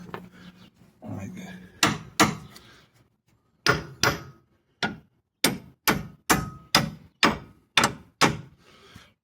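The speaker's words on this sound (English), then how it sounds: "you might have to tap on it a little bit" A hammer taps on the upper control arm of a 1998 Ford Explorer during a wheel bearing job, with about a dozen sharp, close metallic knocks. The first few are spread out, then a steady, evenly spaced run follows. Light talk sits in the background.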